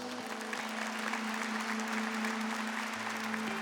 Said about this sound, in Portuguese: Vamos acolher essa palavra com uma salva de palmas.